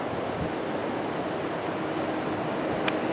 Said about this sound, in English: So we are at Deadline Falls currently.